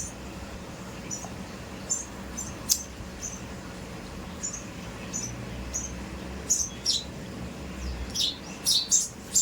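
Sparrows chirp in short, high, scattered calls over a steady low background hum, fairly faint at first and growing busier and louder toward the end, with no voices.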